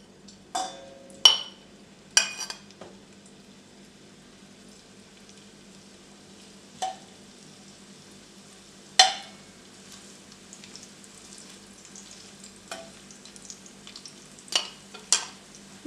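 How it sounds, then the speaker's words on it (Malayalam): French fries frying in hot oil in a pan, a quiet low bed of sizzle broken by sharp, scattered crackling pops at irregular intervals, with no voices. "അപ്പോൾ നമുക്കിനി ഫ്രഞ്ച് ഫ്രൈസ് പാനിലോട്ട് ആഡ് ചെയ്ത് കൊടുക്കാം."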